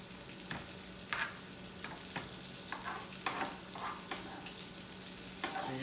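A steak sizzles steadily in a hot pan while being basted, with irregular bursts of spitting fat and spoon scrapes over a constant frying hiss.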